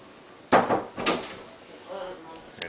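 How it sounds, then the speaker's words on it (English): A door swings shut with a firm thump in a house during a Christmas visit, followed by a smaller knock and light rattling, close by and fairly quiet. "Okay, close the door, please."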